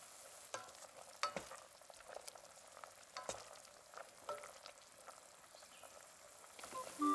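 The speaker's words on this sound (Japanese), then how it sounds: "具材を炒めて火を通す。" Bacon and vegetables for a soy milk soup are stir-fried in a pot over a campfire, a quiet, continuous sizzle broken by irregular scraping and stirring clicks, with no talking.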